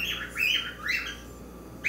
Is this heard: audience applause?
no